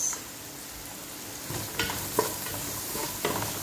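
Ginger and onions sauté in a hot pan for chicken tinola soup, a continuous sizzle with spatula scrapes and stirring knocks near the mic and no talking.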